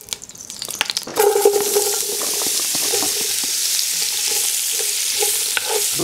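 Root vegetables dropped into hot oil in a Dutch oven, a few clatters before a loud sizzle bursts up and settles into a dense continuous crackle, close and with no one speaking.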